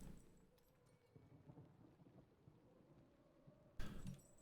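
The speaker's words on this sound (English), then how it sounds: "Let's see if we can get rid of this storm quick." A Minecraft thunderstorm brings steady rain hissing with low rumbling thunder, and a sharper, louder crack of thunder breaks in near the end.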